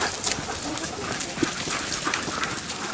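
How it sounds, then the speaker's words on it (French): Trained hunting dogs move about and play together in a sociable pack, giving scattered footfalls, rustling and the odd faint whimper against steady outdoor background noise. "c'est des chiens de chasse, voilà, donc c'est des chiens qui sont éduqués"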